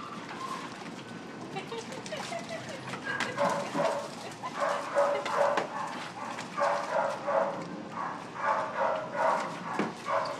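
Dogs bark repeatedly at a pool, a run of loud, close barks that grows busier midway through and keeps a steady rhythm amid background noise.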